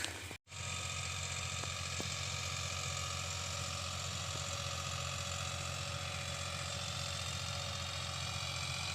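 A tractor engine runs at a steady, droning idle in a field during wheat sowing. The hum is continuous and moderately loud, and a brief dropout comes near the start.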